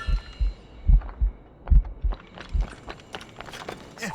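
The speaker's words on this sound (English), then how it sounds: "Moving keeps my heart beating." Heavy, muffled heartbeat of a poisoned Shay in Assassin's Creed Rogue, thumping in paired beats that speed up and fade, with faint movement and clattering behind.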